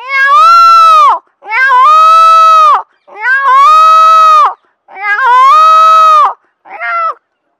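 A man imitates a peacock's monsoon-season call with his voice, giving four long, loud, wailing cries with short gaps between them and a brief fifth cry at the end, with no other sound.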